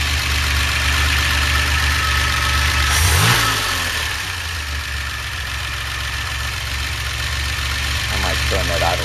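DeLorean engine idling after a carburetor conversion with a Peugeot manifold, a steady mid-pitched idle close by with a brief rev-like swell partway through, while a person talks over it.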